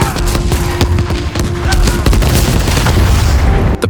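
A powerful explosion in a film sounds as a dense, roaring blast that fills the whole stretch, with crackling bursts and rumbling debris running throughout.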